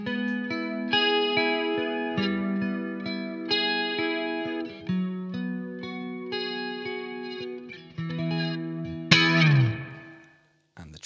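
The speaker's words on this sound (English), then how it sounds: "Let's get into some flanger territory" A Blackstar AMPED floorboard guitar amp plays a sustained riff through a sweeping flanger, the swirling comb-filtered tone bright and steady, ending on a strummed chord that rings and fades to near silence.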